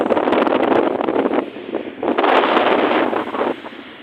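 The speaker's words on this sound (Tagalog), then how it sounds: "So napapalakas talaga yung hangin dito at yung hangin." Strong wind on the Ilocos Norte coast roars across the microphone in heavy, continuous gusts, easing briefly midway before surging again.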